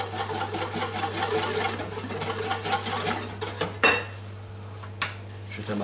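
A whisk stirring crème brûlée custard into hot milk in a pan, with quick rhythmic clinks and scrapes against the metal that stop partway through, leaving a steady low hum and a few faint knocks, near and without speech.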